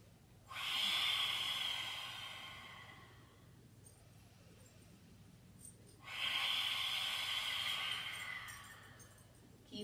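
Slow, deep breathing during a yoga flow: two long airy inhales or exhales several seconds apart, close and soft, with quiet room hush between them.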